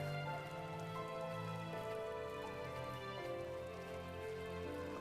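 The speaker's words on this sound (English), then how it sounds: "Oh, is it raining? It is raining." Rain falls steadily in The First Tree, a soft constant patter under the game's sustained musical tones, with no voices.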